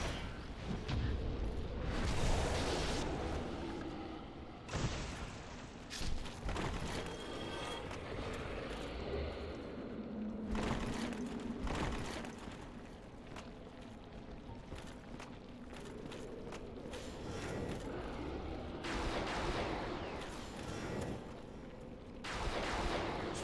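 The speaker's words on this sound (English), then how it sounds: "Yeah, the explosion kills them." Repeated explosions in the Dark Souls Remastered video game, in the New Londo Ruins area, as booming, rumbling blasts that keep recurring over a continuous low, noisy game soundscape.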